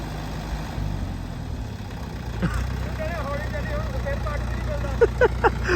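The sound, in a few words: Mahindra 585 DI tractor engine running under load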